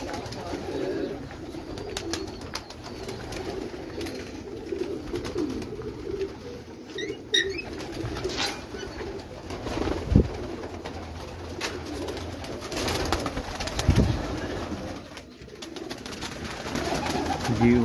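Pigeons cooing on a rooftop, soft repeated throaty coos from several birds close by, with rustling and occasional wing flutters against a steady outdoor background.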